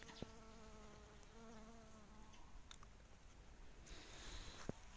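Small bees buzzing close by outdoors, a steady thin drone with a few brief louder passes and faint rustling beneath.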